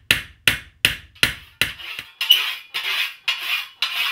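A 16-ounce flat-faced hammer peens a European scythe blade in nine sharp, evenly spaced metallic strikes, loud and close, each ringing briefly before the next blow.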